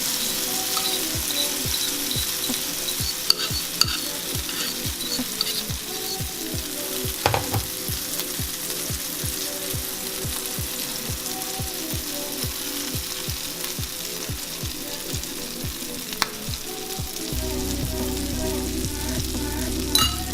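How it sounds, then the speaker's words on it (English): Meat pancake frying in a greased cast iron skillet over medium heat, a steady close sizzle with crackling pops throughout, and a brief low rumble near the end. "We would recommend cooking it on a cast iron skillet. Probably greased would be the best."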